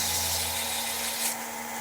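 Steady abrasive rubbing of sandpaper against a spinning wooden pen blank on a lathe, with a constant motor hum underneath, continuous and close.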